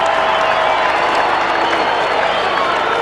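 Stadium crowd at an Australian football match between West Coast and Carlton roaring after a goal, a steady dense wash of cheering and applause throughout.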